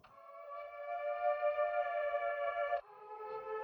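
A sustained synthesized vocal tone run through a formant effect automated to fade and shift, holding one harmonic-rich note and then dropping abruptly to a thinner, quieter tone near the end, with no talking.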